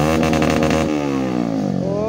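Motorcycle engine with an aftermarket exhaust revving hard at close range, a loud throaty burst that holds and then drops in pitch as the revs fall.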